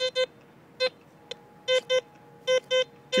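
Metal detector sweeping over buried coin targets gives short electronic beeps, mostly in quick pairs with a few single tones, repeating irregularly against a quiet outdoor background.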